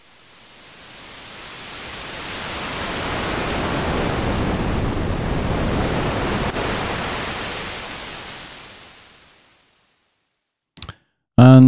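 Synthesizer noise whose volume is shaped by an LFO swells up from silence into a broad, hissing wash that peaks midway and fades out over about ten seconds, followed by a couple of brief clicks near the end.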